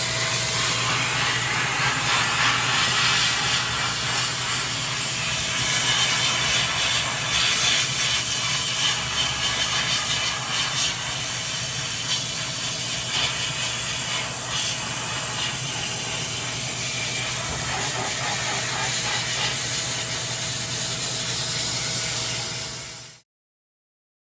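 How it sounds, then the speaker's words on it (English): A close, loud and steady blasting hiss of a sandblaster working on a fender light part runs continuously for over twenty seconds, with a faint rattling texture, then cuts off abruptly. "grab one of our parts, and start blasting away"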